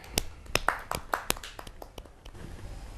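Audience applause at a Kavi Sammelan poetry gathering, a brief, fairly sparse round of clapping with distinct individual claps that thins out toward the end.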